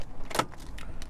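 Small car key pulled out and jangling briefly in a quiet car interior, a short bright metallic burst of clinks over low background rumble.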